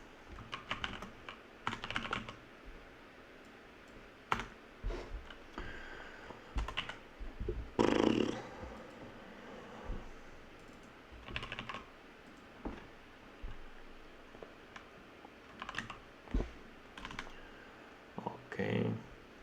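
Computer keyboard typing while coding a sliding window median solution, with irregular bursts of keystrokes across the stretch, some louder clustered taps, and occasional brief speech in between.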